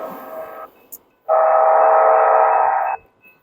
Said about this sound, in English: I don't know which way the train's coming. Oh, here it comes this way.